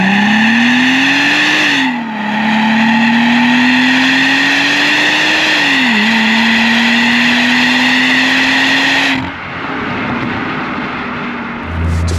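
A supercharged V6 in a Mercedes-Benz C32 AMG with a stainless steel exhaust, revving loud and close: two long climbs in pitch, each dropping back briefly, then a settle to a steady idle.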